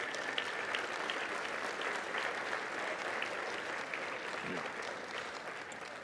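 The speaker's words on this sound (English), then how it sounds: "Big round of applause." Applause from the audience at an annual celebration program honoring longtime supporters of the ALS cause, a steady, dense wash of clapping that continues for the whole stretch at moderate level.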